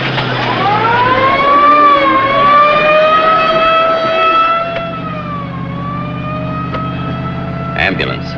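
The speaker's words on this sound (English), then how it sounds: "Ambulance, huh?" A siren wails in long rising and falling tones that bend in pitch, loud and fairly close, with a low engine rumble underneath and a brief clatter near the end.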